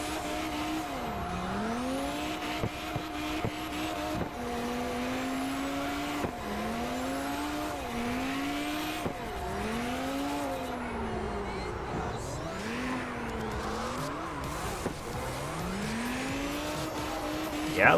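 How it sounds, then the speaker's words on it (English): Audi drifting on a snow map in the CarX driving game, with a steady engine drone and repeated swooping revs as the tires squeal through slides, loud and continuous throughout. "I know this car is pretty good at drifting."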